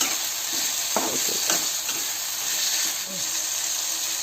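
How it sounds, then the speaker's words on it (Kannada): Spices frying in a pan with a soft continuous sizzle, broken by a few scraping strokes of a spoon as they are stirred. "ಫ್ರೈ ಆಗೋವರೆಗೂ ಅದನ್ನು ಮಿಕ್ಸ್ ಮಾಡ್ತಾ ಹೋಗಬೇಕು"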